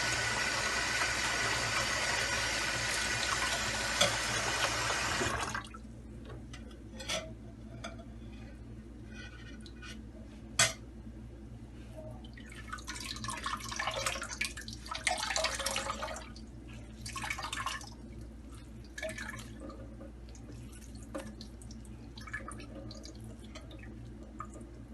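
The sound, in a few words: water draining and dripping from strained cheese for ras malai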